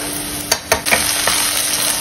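Crushed garlic cloves frying with browned onion in a pan give a steady close-up sizzle, broken by a few sharp clicks and scrapes of a spoon stirring.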